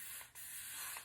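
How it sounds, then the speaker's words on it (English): Hair spray hisses out in a steady, close aerosol burst around the edges of a bald cap during a lace frontal wig install, with a slight dip partway through the spray. "And we're just spraying this around our edges."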